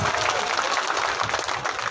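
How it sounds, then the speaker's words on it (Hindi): A crowd at a political rally in Nagaur applauds loudly, a dense, continuous roar of many hands clapping at once with no pauses. "एक बार जोरदार तालियां बजाएं"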